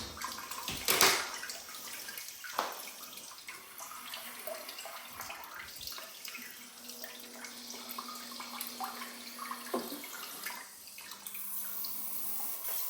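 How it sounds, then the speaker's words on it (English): Warm water sprays from the rear-wash nozzle of a heated bidet toilet seat, a steady rushing hiss after a brief sharp splash, fairly quiet and without talk. "Let me go ahead and use rear wash."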